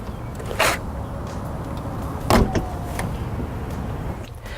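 The power trunk lid of a 2013 Mercedes-Benz C-Class closes on its own, with a quiet electric motor whirring under a low idle hum and two short, sharp clunks as the lid comes down and latches.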